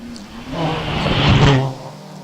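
A Citroen Saxo hillclimb car at Doune revs hard up the hill in one continuous rising-and-falling engine note that peaks mid-pass and fades at the end, loud and close, with no talk.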